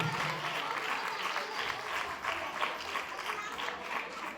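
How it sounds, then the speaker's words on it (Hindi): A church congregation applauds at a pastor's gathering, a steady, moderately distant wash of many hands clapping that runs evenly through the whole stretch without pause. "मैं चाहता हूं आप सब इनके लिए भी जोरदार तालियां बजाएं"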